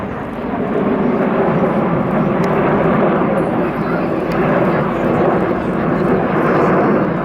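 Red Arrows jets roar overhead during the shuttle roll at the Farnborough airshow, a loud continuous broadband engine rumble with a commentator talking over it throughout.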